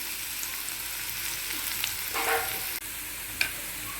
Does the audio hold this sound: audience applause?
no